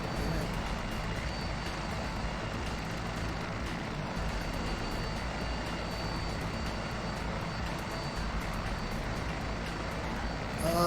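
Simulated helicopter flying over Peruvian volcanoes and Lake Titicaca in a flight simulator game, a steady droning engine and rotor hum that holds at an even level throughout with no talk.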